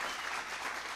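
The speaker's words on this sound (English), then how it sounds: "Give them a big round of applause." Steady, dense applause from an audience at a speech at Cedar Falls Utilities in Iowa, a continuous wash of clapping that stays even and fairly loud for the whole second.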